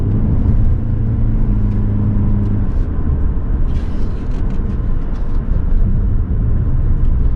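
A 2023 Toyota Prius with McPherson front struts and multi-link rear suspension rounds turns on a country road. Loud, steady low road rumble and tire noise fill the cabin throughout, with a faint engine tone early on and no talk.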